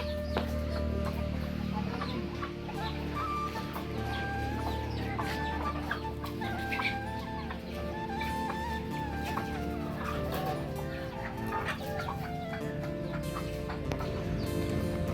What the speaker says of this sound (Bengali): সব এগুলো দেশি মুরগি